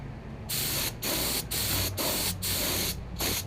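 Paint is sprayed onto a plastic dash part from a 1966 Ford Galaxie 500 convertible outdoors, with about six loud, even hissing bursts separated by short pauses.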